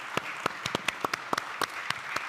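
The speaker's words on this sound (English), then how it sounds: "please give a round of applause" Sparse applause at a real estate forum, a small number of people clapping in uneven, separate claps, close by and moderately quiet with no talk over it.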